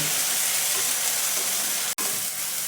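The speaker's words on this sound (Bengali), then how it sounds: "রসুনটা ভাজা হয়েছে এর সাথে টমেটো কুচিটাও দিয়ে দিচ্ছি" Chopped tomato added to garlic frying in a pan, giving a steady, loud sizzle and hiss that runs unbroken except for a brief dropout near the end.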